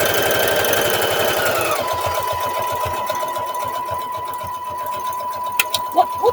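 A Brother CS-6000i sewing machine stitches through doubled fabric, a fast, even mechanical chatter of needle strokes with a whining motor tone that drops in pitch partway through, close up with no talk.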